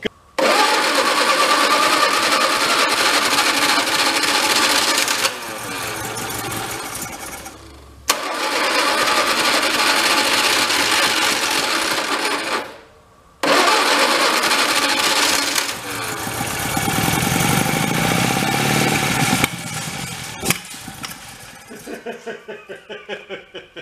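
A loud engine of an MG TD car, parked 45 years, revs and runs in long sustained bursts, cutting out twice briefly before restarting, then sputtering down unevenly at the end, exhaust spitting debris.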